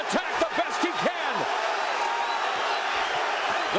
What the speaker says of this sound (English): The crowd here on fuego